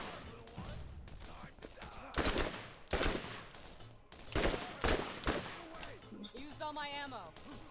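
Gunfire in the video game Borderlands 2, with several loud bursts of rapid shots separated by short pauses and a warbling electronic effect near the end, close and mixed with other game sounds.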